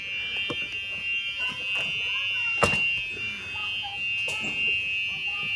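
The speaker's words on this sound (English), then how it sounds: "I love that reverse buzzer noise" A continuous high-pitched electronic reverse buzzer on a Club Car utility vehicle converted to a dump truck sounds steadily, with clunks and background noise from the machine around it.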